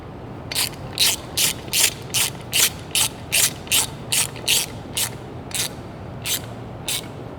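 A ratchet socket wrench clicks through a rapid, even run of about fifteen bursts, loud and close, while fitting a Holley mid-mount accessory system on an IROC Z. No voices are heard.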